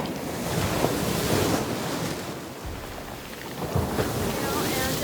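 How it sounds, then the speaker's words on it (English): Ocean waves rolling in during a bomb cyclone storm, steady roaring surf mixed with heavy wind noise, loud and continuous. "the way the waves are coming in"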